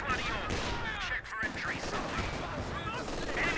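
Machine gun fire and other gunfire from a Company of Heroes 2 World War II 2v2 battle rattle on steadily throughout, dense and continuous, with a voice talking over the shooting.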